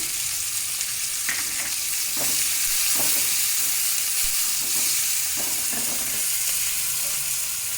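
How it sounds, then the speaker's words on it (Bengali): Onions and capsicum fry in hot oil for chilli chicken, stirred as they cook: a steady, dense sizzle runs throughout, with soft scraping stir strokes recurring over it. "এই ভেজে রাখার তেলেই আমি পেঁয়াজ দিলাম, একটু পেঁয়াজ নাড়তে নাড়তে ক্যাপসিকামগুলো দিয়ে দিলাম"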